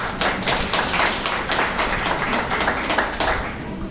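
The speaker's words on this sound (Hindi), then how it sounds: "नए लोगों के लिए ताली बजाओ एक बार" Audience at a Gita discourse in Pushkar claps together to welcome newcomers, a steady dense patter of many hands lasting throughout at fairly loud level.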